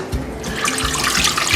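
Water pours steadily into a pot to be brought to a boil for a stew, a close, continuous splashing flow that grows slightly louder and brighter as it fills.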